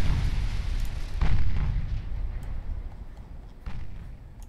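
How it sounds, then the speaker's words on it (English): A 24-inch torpedo exploding amidships against a warship in the naval game Ultimate Admiral Dreadnoughts, a deep muffled boom swelling into a rumbling roar, with a second duller thud later, moderately loud over low background rumble. "24-inch torpedo delivered amidships."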